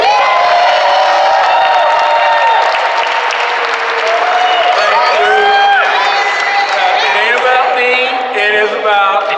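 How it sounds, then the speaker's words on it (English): Loud applause and cheering from an election night crowd as Shelby County Mayor A.C. Wharton takes the podium, sustained clapping with whoops and shouts rising over it. "Let's give a rousing round of applause as he takes the podium, Mayor A.C. Warden"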